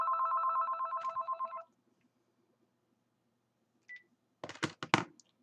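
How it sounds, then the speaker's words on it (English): Telephone ringing in a home during a mother-and-daughter makeup session: a steady, buzzy electronic ring pulses for about a second and a half, then stops, followed by a brief beep and a few quiet knocks and handling sounds. "That's a phone call we don't have to answer."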